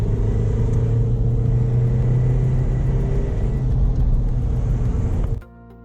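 A Toyota MR2 Spyder fitted with a new supercharger accelerates, its engine a loud, steady droning rumble heard from inside the car for several seconds before cutting off abruptly.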